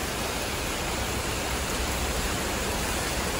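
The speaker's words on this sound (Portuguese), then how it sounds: "Tem que esperar a chuva passar" Steady heavy rain falls at the port of Manaus on the Amazon, a dense, even broadband hiss that holds unchanged throughout, close and continuous with no voices.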